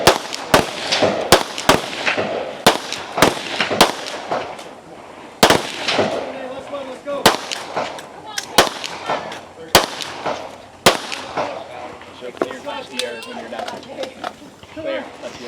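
Gunshots on a stage of an elite women's shooting competition: a dozen or so sharp, loud cracks fired at an uneven rhythm, with a voice talking quietly between them.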